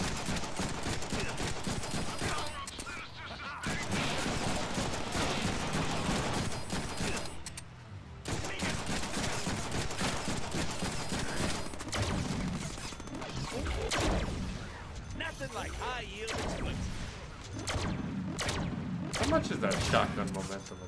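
Pistol gunfire in a Deadpool action video game, dense bursts of shots and crashes mixed with game music and effects, loud and nearly continuous with a brief lull near the middle.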